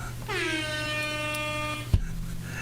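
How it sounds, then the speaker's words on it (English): A single long air horn blast sounds loud and bright, holding steady for over a second before cutting off with a thump. "Air horn."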